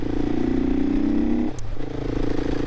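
A Herald Brute 500 motorcycle with a Chinese-built engine and frame is ridden: a steady, close engine drone that dips briefly midway, then resumes at an even pitch.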